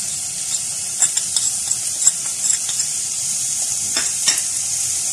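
Boiled potatoes and spices being stirred in a pan over low heat: a steady, loud frying hiss runs throughout, with light spoon scrapes and taps scattered across it, close up and without speech.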